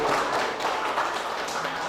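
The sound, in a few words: applause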